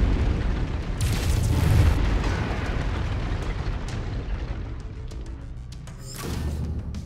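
Mech lasers fire in MechWarrior 5: Mercenaries, with two heavy, booming energy bursts over a low, rumbling background.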